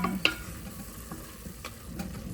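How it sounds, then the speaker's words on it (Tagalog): Chicken soup with macaroni cooks in a pot and gets stirred, a soft bubbling sizzle with a few light utensil taps and scrapes, close and quiet. "nagluluto ako ng sopas ngayon"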